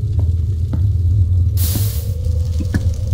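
Fire burning in a modded Minecraft world, a steady crackling sizzle over a low rumble with occasional pops, joined midway by a brighter hissing rush that stays close and fairly loud.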